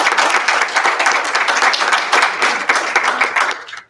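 An audience at an academic lecture on adult education curriculum breaks into a few seconds of lively, dense clapping that fades out abruptly at the end.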